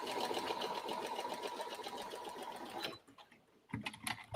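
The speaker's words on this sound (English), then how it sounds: "I'm going to just stitch that down" A sewing machine stitches a small hem on a fabric shoe bag flap, a close, steady rapid whirring run that stops after about three seconds, followed by a few handling knocks and clicks.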